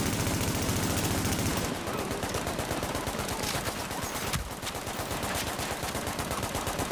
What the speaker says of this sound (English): You should be dead, turret. Why are you still shooting?